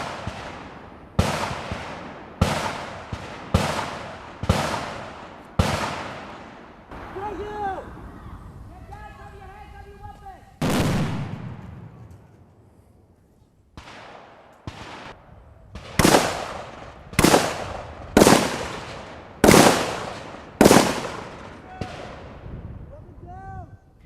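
Military gunfire laying suppressive fire during a training exercise: loud, sharp shots in quick bursts of four or five, with a quieter gap in the middle and reverberant tails, and a faint voice between the volleys.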